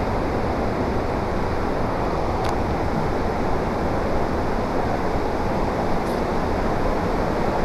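Strong water current rushes past the edge of a dam, a dense, even roar of churning flow that holds steady throughout with no voices.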